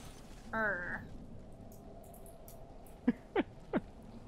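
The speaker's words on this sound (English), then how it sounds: "You can just hear the bird." A short descending bird call, then three sharp chirps in quick succession, fairly faint over a low hum, in the video game Fortnite.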